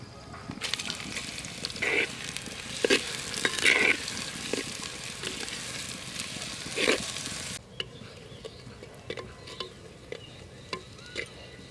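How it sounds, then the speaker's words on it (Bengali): Sliced onions sizzling in mustard oil with cloves, cinnamon and cardamom for a village-style mutton curry, a close bright fizz with stirring scrapes; the frying noise drops suddenly near the end, leaving quieter scraping. "আমি পেঁয়াজটা একটু বেশি বেশি করে ভাজবো।"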